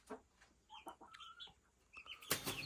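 Chickens with growing chicks in a coop: scattered soft clucks and peeping calls, a few brief wing flaps, and a louder burst of flapping near the end, all fairly faint and close.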